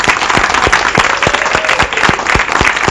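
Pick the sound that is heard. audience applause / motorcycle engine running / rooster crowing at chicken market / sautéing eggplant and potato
audience applause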